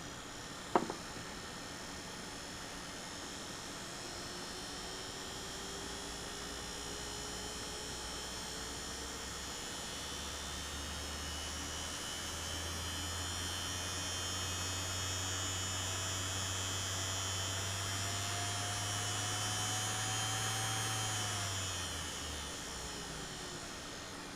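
An electric motor with a cooling fan runs steadily and faintly, giving a constant hum whose pitch drifts slowly upward and then drops near the end, with no talking.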